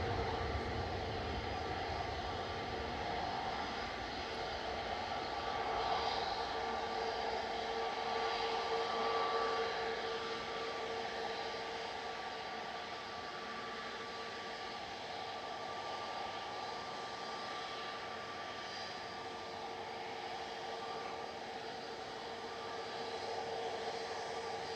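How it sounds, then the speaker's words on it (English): An easyJet Airbus A320neo lined up for departure at Manchester Airport, bound for Naples, its engines humming in a steady idle whine with tonal bands, moderately distant and unbroken, no voices present. "EasyJet lined up from Victor Alpha now. This is GU's at HN and A320 Neo heading to Naples with flight 2125"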